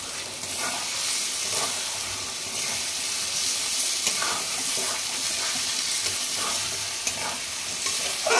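Garam masala, poppy seeds and cashew paste stir-fried in a pan for an egg and potato curry, a loud, dense sizzle with rhythmic scraping stirs throughout, no voices.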